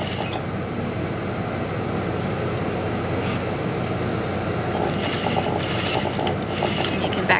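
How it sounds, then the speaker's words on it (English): A sewing machine stitches a dart on a shirt front with a steady, close mechanical whir and rapid rattling clatter. It runs without a break and is joined by sharper ticking near the end. "We just go ahead and start to sew."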